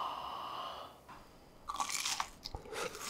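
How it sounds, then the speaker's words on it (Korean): Biting into a homemade Hot Cheetos cheese stick dipped in ketchup, heard close up as several crisp, crunchy bites and chewing under a faint background hiss, with no talk. "이번에는 치토스 치즈 스틱. 자, 요거는 케찹에다가 한번 제가 찍어서 먹어볼게요."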